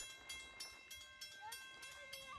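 A railroad crossing bell clangs in a steady rhythm at a distance as the crossing gates activate with no train approaching, faint and regular, with a brief tonal whine in the background.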